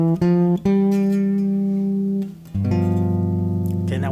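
A symmetrical eight-note half-whole diminished scale sounds as a run of sustained, evenly held notes on a single instrument, loud and close with no talk over it.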